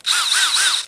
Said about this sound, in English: with a drill. And I've already got the bit on here that's the right size for these axle holes